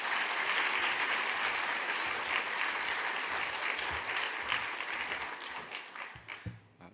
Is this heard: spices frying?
no